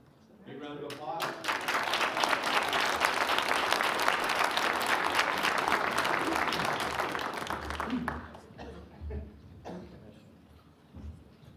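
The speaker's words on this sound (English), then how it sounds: "Big round of applause." A room full of people at a county commission board meeting breaks into sustained applause that swells quickly, holds for several seconds, then fades into scattered claps, with a voice speaking faintly toward the end.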